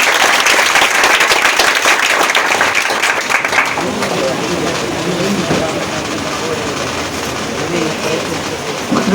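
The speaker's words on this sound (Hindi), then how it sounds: "सर के लिए जोरदार" Classroom audience at a coaching class applauds a teacher, a loud dense wash of clapping that runs continuously throughout, with voices mixed into the crowd noise.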